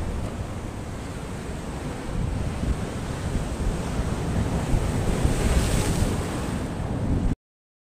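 Strong monsoon wind gusting over the ocean with surf rolling in, a loud, steady roar of wind buffeting the microphone and waves washing ashore, building slightly toward the end, with no voices.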